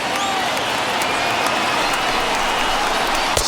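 Over 28,000 fans at a Braves–Phillies baseball game rise and cheer with dense, continuous applause and roaring crowd noise, loud and sustained throughout, with a commentator's voice faintly beneath.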